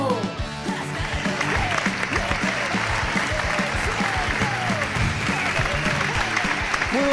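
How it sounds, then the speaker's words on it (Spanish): A theater audience at a university residence hall in Zaragoza applauds a stand-up comedian, a sustained, even roar of clapping that fills the room while a voice speaks over it. "Fuerte el aplauso para Jorge Puello."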